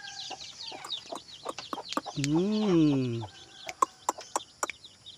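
Rhode Island hens and chicks at close range: quick high chirps and soft clucks scattered throughout, with one longer, louder drawn-out call in the middle.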